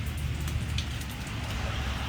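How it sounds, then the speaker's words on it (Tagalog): Heavy rain roars in a dense, constant wash, with scattered sharper impacts of large hailstones striking a car close by. "Oh, dang yelo, oh. Oh, dagko kayo. Grabing ulan."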